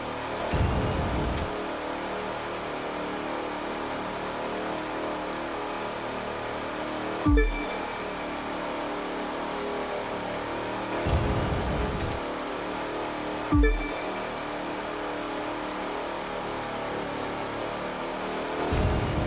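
Race cars run in The Crew 2 racing game, engines droning steadily with repeated whooshes as they pass, and sharp bursts recurring every few seconds.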